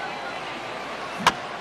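In MLB The Show 15, a bat meets the ball on a chopped foul with one short, sharp crack under steady crowd noise and a play-by-play commentator.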